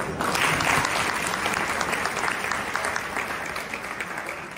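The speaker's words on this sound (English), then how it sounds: "we have a round of applause for him also" Audience applause at an orientation event fills the room, a dense steady clapping crowd that holds throughout, slightly tapering near the end.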